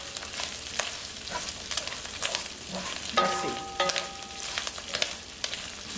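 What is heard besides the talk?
pork crackling frying and being stirred in a pan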